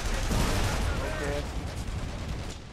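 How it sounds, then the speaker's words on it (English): Gunfire rattles through a firefight in the video game The Saboteur as a dense, loud, continuous barrage of shots and booming blasts that fills the whole stretch with barely any pause. "They're shooting."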